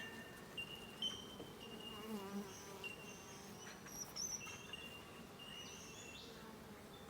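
Honeybees buzz steadily around a beehive frame in the brood box where they are building out comb, a quiet, continuous drone with scattered closer passes.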